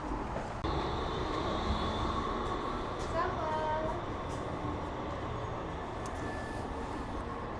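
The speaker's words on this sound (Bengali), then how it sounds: "এই যে আমাদের ট্রেন চলে আসছে" A Valley Line LRT light rail train in Edmonton rolls in with a steady rumbling roar and faint high whining tones, loud and continuous, while people talk nearby.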